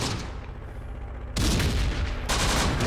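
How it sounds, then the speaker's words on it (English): Rifle and machine-gun fire rattles in a World War II desert battle in the Close Combat strategy game, a quieter stretch giving way to sudden loud bursts of dense, overlapping gunfire. "Keep firing, boys, keep firing."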